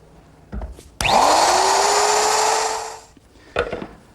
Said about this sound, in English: By using my router with a chamfering bit, I'm just easing the edges at the top of the foot.